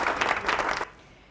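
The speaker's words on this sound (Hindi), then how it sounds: "तालियां हो जाए भाई।" Short burst of studio audience clapping after a correct answer on a Ramadan quiz show, a few bright claps that stop abruptly into quiet.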